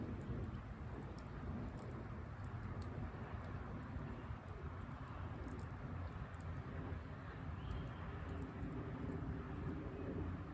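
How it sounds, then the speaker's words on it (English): A distant airplane passes over a stormy riverside near Elk River and the Chesapeake Bay. It makes a steady, low, broad rumble that continues throughout, with faint bird chirps above it. "right now you can hear an airplane in the distance"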